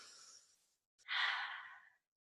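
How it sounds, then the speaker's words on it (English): One person takes a slow, deep breath: a soft exhale fades out, then after a short pause comes a longer, louder airy breath, close to the mic in a quiet room. "Just to practice some deep breathing."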